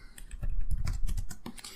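Rapid typing on a computer keyboard, a close, dense run of clicking keystrokes with uneven rhythm, heard alone without talk.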